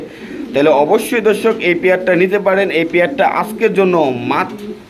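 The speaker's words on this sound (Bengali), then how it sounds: "এখানে আছে টপ কোয়ালিটির একজোড়া লাহোরি কবুতর দর্শক" A pair of Lahori pigeons with spangled colouring coo softly at close range, nearly buried under a man's steady, continuous talk.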